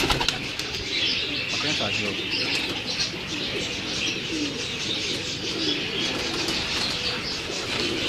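Teddy pigeons kept at a home loft coo steadily and flap their wings close by, with some chirping, while someone speaks over them.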